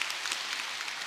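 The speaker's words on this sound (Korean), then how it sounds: "하나님께 영광의 박수 돌립니다." A church congregation applauds during a Christmas Sunday service, a short, fairly even burst of many hands clapping with no speech over it.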